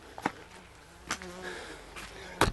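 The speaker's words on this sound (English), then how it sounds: "There's a bee, you know, you may go away." A faint bee buzz drones close by, rising and fading, with a few sharp clicks or taps around it, outdoors at Ned's Point, Buncrana, County Donegal, Ireland.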